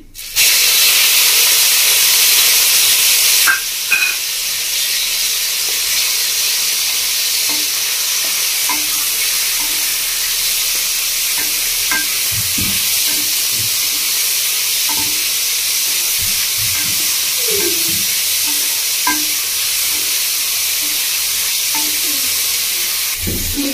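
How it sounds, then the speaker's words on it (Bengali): Chicken pieces dropped into hot oil seasoned with ground black pepper, giving a loud, steady sizzle and hiss after an initial burst, with occasional stirring clinks throughout and no talking. "তেলটা গরম হয়ে গেছে, তেলের মধ্যে দিয়ে দিচ্ছি গোলমরিচের গুঁড়ো। এবার আমি দিয়ে দেবো চিকেনটা।"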